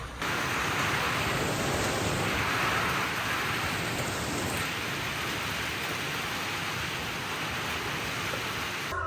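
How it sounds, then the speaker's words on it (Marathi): Steady, heavy rain pours down continuously in Miraj, a dense, even hiss with no breaks. "पण असा पाऊस आठवड्यातनं आज पडलाय"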